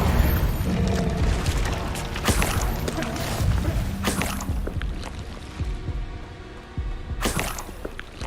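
Incendio fire spells cast in Hogwarts Legacy burst out as repeated loud whooshing blasts and booms, layered over dense, continuous game effects and ambience.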